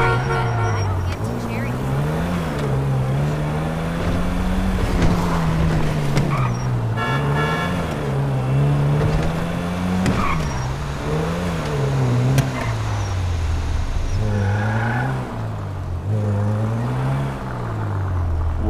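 A modified car engine in the video game GTA 5 revs and drones loudly, rising and falling in repeated throttle sweeps while someone talks over it.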